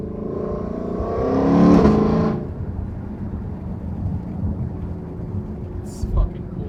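A 2020+ Ford Mustang Shelby GT500 fitted with an MBRP X-pipe exhaust while driving: the engine note swells loudly for a couple of seconds, then drops back to a steady, raspy cruising drone.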